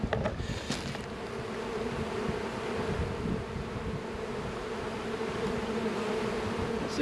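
Honeybees hum in a dense, continuous drone from an opened, strong hive, close and steady throughout with no voices.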